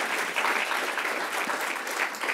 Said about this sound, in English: Please give all these partners a round of applause.